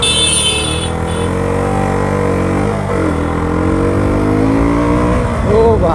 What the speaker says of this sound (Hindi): बाइक को करते हैं चालू, उसके बाद निकलते हैं।